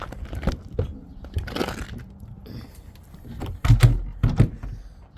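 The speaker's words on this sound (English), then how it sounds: "We got a drawer opening." A drawer slides open in the galley of a family camping and overlanding rig, giving a run of knocks and scraping clunks that grow louder near the end. No voices are heard.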